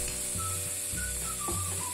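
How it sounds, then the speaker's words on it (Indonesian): Ground spice paste sizzles in hot cooking oil for an Indonesian Lebaran dish, a steady close frying hiss with a few stirring clicks and scrapes, no voices. "Setelah minyak panas, masukkan bumbu yang dihaluskan."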